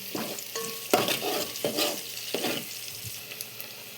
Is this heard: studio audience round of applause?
no